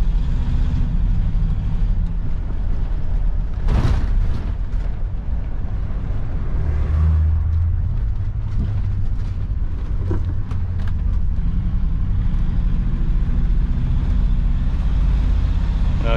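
An Airstream Argosy 28 motorhome engine, pulling a rig of roughly four and a half tonnes, revs up loudly and holds a steady, rumbling drone with a brief surge near the start. No one speaks.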